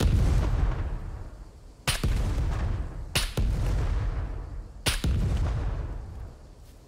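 Gunfire during a base raid in the video game Scum, with three sharp, loud shots at irregular intervals cutting through a constant low rumbling background.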